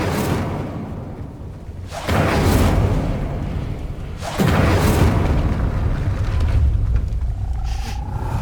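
The Incendio fire spell is cast in Hogwarts Legacy, giving two loud whooshing bursts of flame about two seconds apart. Each flare rises over a constant low roar and trails off into a crackling rush.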